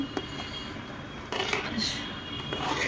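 Dalia khichuri mixed in a pot, with faint metallic scrapes and clinks of a spoon against the vessel, quiet and close, amid low room noise.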